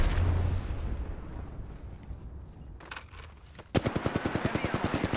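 Automatic gunfire in the Apex Legends battle royale game, starting as a muffled, distant rumble and turning into a loud, rapid burst of close shots in quick rhythm near the end.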